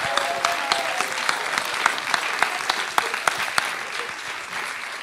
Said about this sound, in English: please a warm applause for all of you and all of the funders and helpers